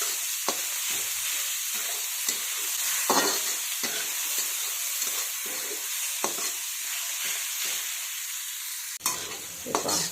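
Onion, tomato, green chili and curry leaves sauté in a pan, with a steady sizzle broken by repeated scraping stirs of a spoon and a clink near the end.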